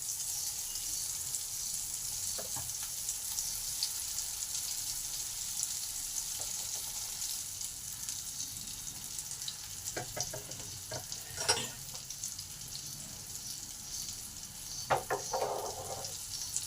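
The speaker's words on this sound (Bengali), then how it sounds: "তেলটা ভালোভাবে গরম হলে কাবাবগুলো এক এক করে দিয়ে দিলাম" Chicken and lentil kebabs shallow fry in hot oil with a steady, even sizzle, broken by a few soft clinks and stirring noises, and no talking.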